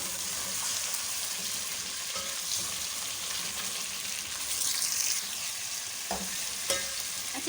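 Chicken fries in a pan for korma, a dense continuous sizzle with stirring scrapes and a couple of louder clanks near the end.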